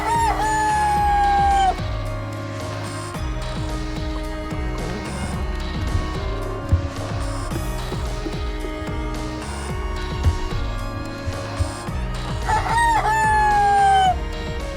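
A farm rooster crows loudly and close, with long drawn-out calls near the start and again near the end, over other clucking chickens and background noise.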